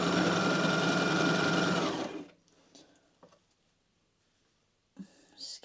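A sewing machine stitching a dress runs loudly and evenly for about two seconds, then stops, leaving faint handling noises and a couple of soft clicks.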